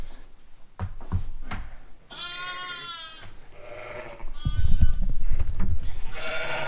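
Lambs bleat nearby during spring lambing on a farm, with several distinct calls separated by shuffling and handling noises, and a louder stretch of movement toward the end.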